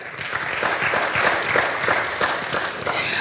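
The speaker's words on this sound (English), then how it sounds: "A round of applause for her, please" Audience applause for a panelist at a development policy discussion on urban work, steady dense clapping from a room full of people throughout, fairly close and even.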